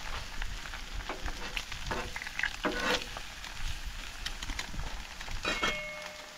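Two eggs fry in a pan at a teardrop-trailer campsite in Madera Canyon, Arizona, with a soft, steady crackle and sputter broken by a few light clicks and taps, moderately close and with no talking.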